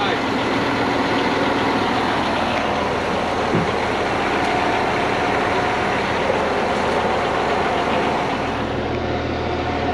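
A crane truck's diesel engine runs at a steady idle while the outriggers level it on cribbing, a continuous low rumble close by with faint hydraulic and mechanical noises over it.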